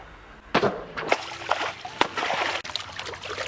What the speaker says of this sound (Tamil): நல்லா கழுவு, அதில் மண்ணெல்லாம் நிறையா இருக்கும்.